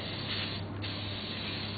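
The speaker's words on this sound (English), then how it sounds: "what I'm going to do is put the cooking spray in" Cooking spray hissing from an aerosol can into a mixing bowl while making naan bread, a steady close hiss lasting under two seconds with no talk.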